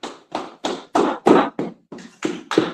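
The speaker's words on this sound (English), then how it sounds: "Go ahead, clap it up one more time" A congregation at a Sabbath service claps in unison, nine loud, distinct claps in a slightly uneven rhythm, close and with no voices over them.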